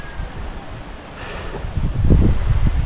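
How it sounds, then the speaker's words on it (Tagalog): Wind buffets the microphone in low rumbling gusts, growing stronger toward the end, with no voices. "Ay, sarap ng hangin dito."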